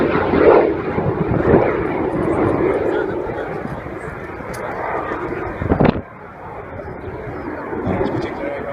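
Jet Provost T5 trainer jet passing over an airshow, a loud sustained roar that gradually fades, with wind buffeting and a voice commentating over it.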